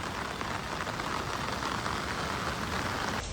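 Heavy monsoon rain pours down in Dholka, Gujarat, as a steady, even hiss of drops striking the ground and surfaces, fairly faint and continuous throughout with no voices.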